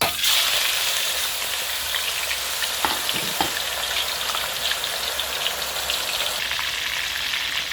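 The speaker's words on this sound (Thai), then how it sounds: "อันนี้คือน้ำมันร้อนละ คือเดือดมาก ฟองจะขึ้นแบบนี้ นะ แล้วเราก็เอาหมูลงเลย" Marinated pork drops into very hot, bubbling oil, giving a loud, dense, steady sizzle and crackle that fills the scene without pause, with a few sharper pops near the start.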